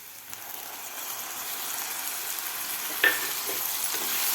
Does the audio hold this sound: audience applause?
no